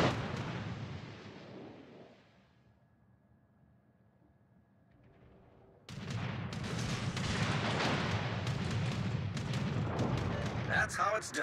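Destroyer naval guns fire in a naval combat video game: heavy booming salvos, then a quieter lull, then a sustained barrage of rumbling shots, with voices speaking over parts of it.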